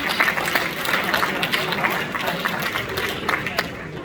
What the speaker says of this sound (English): Can you also give him a round of applause